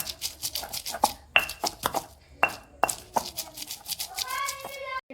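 Close, irregular thuds and knocks of a pestle pounding garlic, ginger and fresh coriander in a mortar while making a green paste for stuffed capsicum, with a voice speaking over parts of it.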